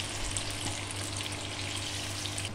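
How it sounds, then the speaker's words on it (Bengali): Water poured into a hot pan while making milk upma, giving a dense hissing sizzle and bubbling rush that holds steadily for a couple of seconds, close and moderately loud. "এবার জল ঢেলে দেবো।"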